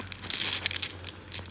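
Tarot dice being shuffled produce a brief, soft run of close crinkling and rattling clicks that bunch up in quick bursts and then taper off, with no talking.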